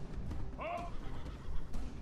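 A horse whinnies once in the medieval battle game Medieval II: Total War, a short rising neigh heard amid rumbling battlefield noise and someone talking over it.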